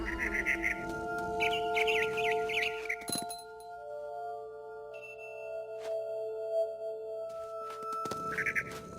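A frightened barn swallow in What Remains of Edith Finch lets out rapid, agitated chirps at the start, then goes quiet under a steady ambient drone before a brief chirp returns at the end, with no speech.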